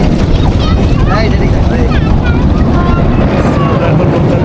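Boat moving across the Chalan Beel wetland in Pabna, a loud steady rumble and rush of wind and water, with high chirping calls over it and voices talking faintly in the background.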